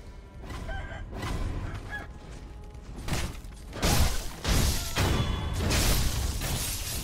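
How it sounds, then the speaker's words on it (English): Chickens clucking and a rooster crowing in the video game Sekiro, loud repeated bursts of squawking that grow busier and louder toward the end, with no talk. "I hear a chicken."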